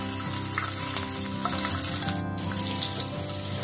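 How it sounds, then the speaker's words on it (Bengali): Green chillies and nigella seeds crackling in hot oil left over from frying fish, a dense, close sizzle with a brief sharp spit midway. "মাছ ভাজা তেলের মধ্যেই 4টে কাঁচা লঙ্কা দিয়ে দিচ্ছি। অল্প একটু কালো জিরে ফোড়ন দিচ্ছি।"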